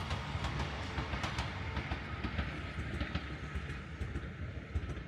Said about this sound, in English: we saw this lovely red train again